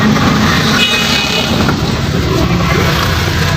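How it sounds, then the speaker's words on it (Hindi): Busy city street on a working day, a dense wash of car and truck engine noise with repeated horn toots cutting through the steady roar. "तो हर तरफ ट्रैफिक ही ट्रैफिक होती है"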